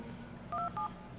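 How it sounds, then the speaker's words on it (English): A softphone dials a conference call with DTMF keypad tones during a DEF CON 19 hacking conference presentation. Two short, clean beeps follow each other quickly over faint background hiss. "we're going to dial the conference call"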